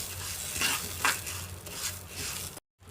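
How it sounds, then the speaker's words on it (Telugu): Curry leaves frying in hot oil in a pan during a spice-powder preparation, giving a steady, fairly close sizzle with light stirring and a few utensil scrapes, then a brief cut to silence near the end. "కరివేపాకు కూడా వేసుకొని వేయించుకుందాం"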